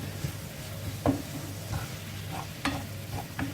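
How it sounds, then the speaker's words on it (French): Already-cooked kebab meat sizzles gently in a pan over low heat, a steady soft frying hiss with occasional scrapes and stirring knocks, close up. "je vais laisser mijoter tranquillement"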